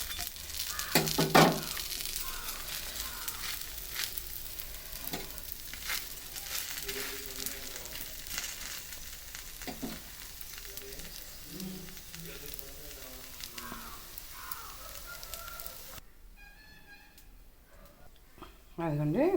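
Millet dosa batter topped with onion pieces frying on a pan, a soft continuous sizzle with occasional crackles and a scrape of the spatula, while a person talks over it throughout.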